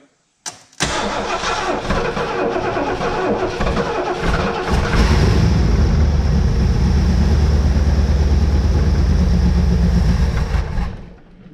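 A barn-find 1971 Lincoln Mark III cranks and fires, its big engine catching after a moment and settling into a loud, steady, rough run that swells and holds close by, with a voice briefly audible early on.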